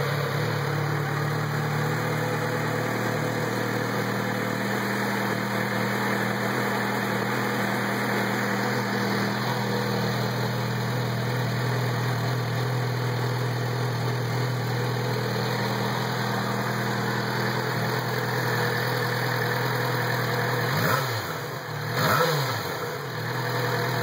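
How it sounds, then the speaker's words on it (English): A 2010 Yamaha FZ6R motorcycle with its stock exhaust idling steadily and loudly up close, a constant engine hum that holds throughout, with a short throttle blip or two near the end. "Here's the before sound of the stock exhaust."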